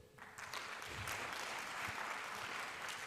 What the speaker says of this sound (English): I think we need to clap for this one as well